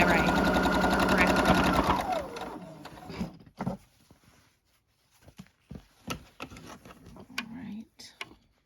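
A sewing machine stitches quilt block pieces for a friendship star block with a fast, even close rattle for about two seconds, then stops; handling clicks and a speaking voice follow.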